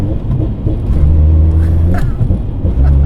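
A Toyota GT86 with an HKS turbo kit, about 320bhp, held on a flat-foot shift limiter, giving a loud, steady, close engine drone that stays pinned at one rev level with slight pulsing.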